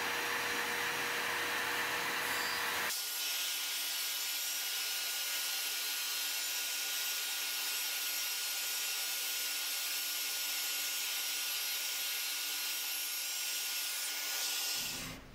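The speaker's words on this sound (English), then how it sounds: "I'm going to put some decorative routing onto these panels too" A wood router cuts a decorative profile into wooden frame-and-panel planter box pieces, starting after a few seconds of quieter noise and running as a loud, steady high-pitched whine and rush for the rest of the span before cutting off.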